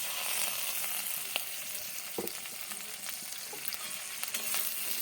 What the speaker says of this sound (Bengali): একটু ট্রান্সপারেন্ট পর্যন্ত আমি এটাকে ভাজবো।